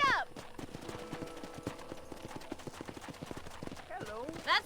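Horse hooves clip-clop in a steady rapid rhythm in the Red Dead Redemption video game, close and continuous, with a character's voice heard briefly at the start and end.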